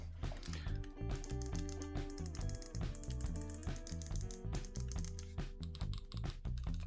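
Clicky face buttons on a PS5 DualSense Edge controller with an Extremerate Face Clicky upgrade are pressed in quick, irregular bursts of sharp, close mouse-like clicks over faint music.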